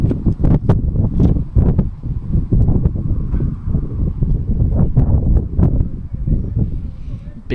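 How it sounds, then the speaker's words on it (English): Strong, steady wind buffets the microphone at Iowa Central's baseball field during a college game between the Tritons and the Marshalltown Tigers. The low rumble runs continuously under a commentator's voice. "Still really windy here at Iowa Central's baseball field"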